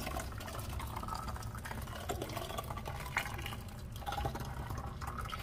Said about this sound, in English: I'm going to pour them in the bottles themselves